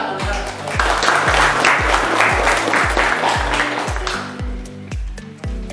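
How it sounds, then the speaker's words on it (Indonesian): Classroom of students applauding together in a school lesson, a dense burst of clapping that stays loud and steady for several seconds, close by, with rhythmic low thumps underneath and a brief voice near the start. "Tepuk tangan."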